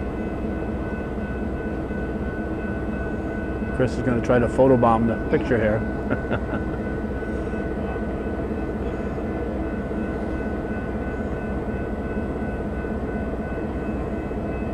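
A Canadian Pacific freight train sits idling with a steady low engine drone, heard from nearby outdoors, while someone talks briefly over it partway through.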